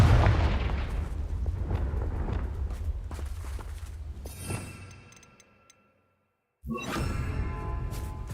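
A Confringo fire spell in Hogwarts Legacy blasts with a booming, fiery roar and crackling bursts, then fades to silence before another sharp burst returns.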